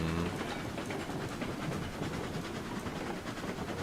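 Game train rolling steadily along its rails, a continuous dense rumble with faint rhythmic clatter at a fairly even level throughout, no voices over it.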